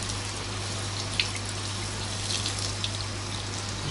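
Running water from a shower or tap splashes steadily over a dog's face during a bath after a walk, a close, even hiss with a few faint drips and no voices.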